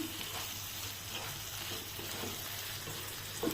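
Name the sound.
mushrooms sautéing with spices in a pan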